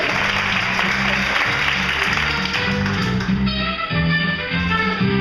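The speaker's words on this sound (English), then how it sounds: "round of applause for our lovely bachelor" Studio audience applause greets the bachelor on a dating game show, a dense steady wash of clapping over a pulsing, beat-heavy music bed that carries on throughout.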